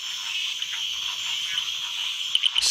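Frogs' mating calls ring out in a Belize night, a continuous high trilling chorus with a few louder, sharper croaks bursting in near the end.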